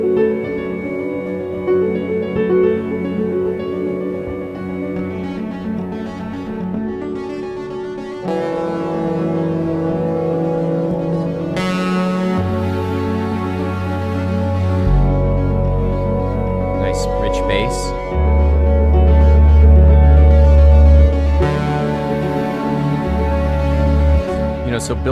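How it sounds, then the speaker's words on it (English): Layered orchestral and synth arrangement combining Vienna instrument samples with Omnisphere pads, building dense and rich, with deep bass swells entering midway and growing louder toward the end, with no voices. "Put the Vienna together with the omnispheres. Nice kind of rich sound coming through."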